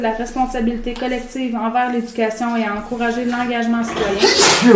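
A single sharp sneeze bursts out near the end, in the middle of a municipal council meeting, while a person keeps reading a formal resolution aloud over it.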